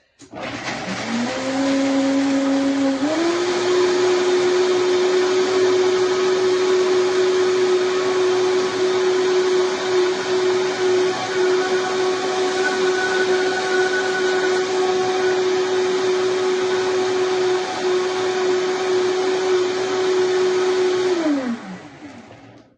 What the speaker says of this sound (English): we'll throw all of that in there, and we'll just run the Vitamix